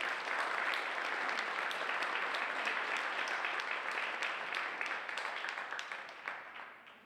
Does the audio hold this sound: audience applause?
yes